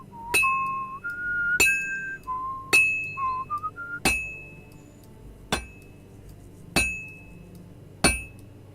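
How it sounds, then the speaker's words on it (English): Hammering metal in the video game Kingdom Come Deliverance: seven crisp, ringing strikes land at a steady pace about a second and a half apart, with a whistled tune over the first few blows. "I have to hammer it more evenly."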